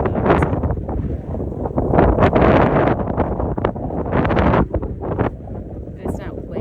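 Strong gusts of wind roar through swaying trees outdoors, rising and falling in loud buffeting waves with heavy rumble against the microphone.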